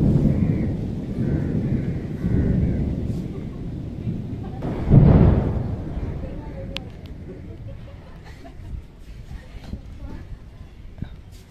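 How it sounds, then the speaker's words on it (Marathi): Thunder from a hailstorm in the Konkan rolls as a low, heavy rumble that peaks in one strong swell midway and then fades. Rain hiss and some background voices sit underneath. "ढगांचा आवाज तुम्ही ऐकू शकता बघा."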